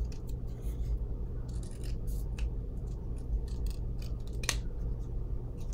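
Scissors snip through a perfume test strip, cutting it in half with a series of quiet, crisp, irregular clicks close by over a low background hum.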